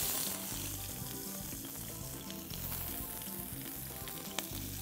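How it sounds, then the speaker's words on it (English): Chaya leaves, onions and garlic sautéing in a pan, a steady close sizzle with faint stirring sounds throughout. "I will now saute some chaya,"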